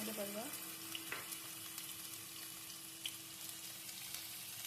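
Onions fry in a pan with a faint, steady sizzle, with a brief clink of utensils at the start and a few soft taps along the way.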